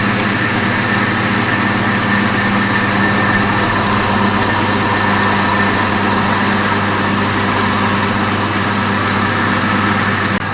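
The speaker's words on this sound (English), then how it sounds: "now we can go ahead and stop the pump" A reciprocating pump on a test rig runs steadily, giving off a loud, dense mechanical drone with a constant low hum and no change in pitch from start to finish, and no voices over it.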